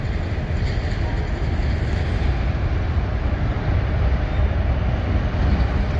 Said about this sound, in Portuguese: Esse som aí é do trem